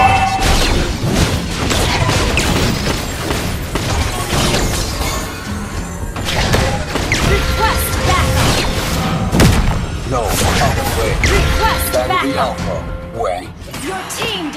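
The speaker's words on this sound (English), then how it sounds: "Your team destroyed a turret!" Mobile Legends turret being destroyed during a match, with loud crashing and booming impacts amid busy game effects, and an announcer voice speaking over the clatter.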